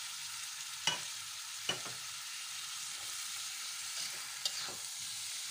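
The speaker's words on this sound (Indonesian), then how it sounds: "Kita aduk sampai merata" Sliced bitter melon being stir-fried in a pan, a soft steady sizzle broken by a few sharp clicks of a spatula against the pan, fairly quiet and without talk.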